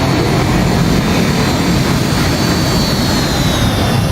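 A simulated regional jet rolls out on landing in X-Plane 12 with full thrust reversers deployed, producing a loud, steady roar of engine noise and rushing air with a faint high whine.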